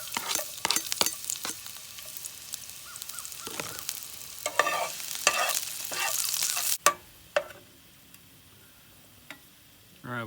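Garlic frying in oil in a Dutch oven pan at a campsite, a hissing sizzle broken by clanks and scrapes of a utensil against the pot, close up, with the sizzle fading near the end.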